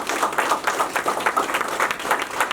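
Guests at an engagement celebration break into loud, sustained applause, a dense wash of clapping hands that holds steady from start to finish with no voices over it.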